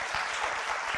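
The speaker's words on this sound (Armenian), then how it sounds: "Այս ծափահարությունները փաստում են" A studio audience on an intellectual quiz show claps in a dense, steady burst of applause, close and sustained throughout.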